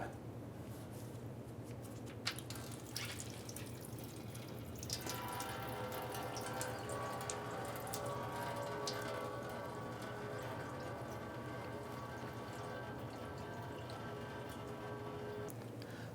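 Coolant drains from the radiator petcock of a 2000-2006 Toyota Tundra into a bucket, a steady splashing trickle that thickens into a continuous close pour after a few seconds, with no voices.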